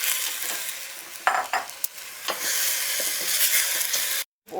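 Garlic and washed, rinsed basmati rice sizzle steadily in a hot pan, stirred with a few scraping utensil knocks, close and moderately loud, then cutting out briefly at the end.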